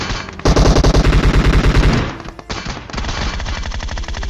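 Rapid machine-gun bursts from a video game firefight, loud and close, with a dense stream of shots, a short pause, then steadier continuous firing resuming.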